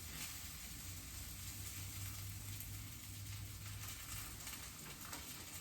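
Already-cooked rice and Brussels sprouts crisp in coconut oil in a hot cast iron pan, giving a steady, continuous sizzle and crackle at close range with no talking.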